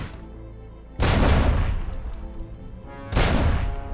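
Two bursts of rapid gunfire about two seconds apart, loud and close, with rumbling booms beneath, shooting mines in the video game Robocop: Rogue City.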